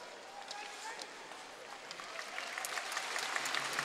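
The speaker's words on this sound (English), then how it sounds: "Round of applause from the team. For the team from the fans." Ice hockey fans in an arena applaud the team during a Sheffield Steelers versus Cardiff Devils game, a steady wash of clapping that swells slightly toward the end, with a commentator's voice running over it.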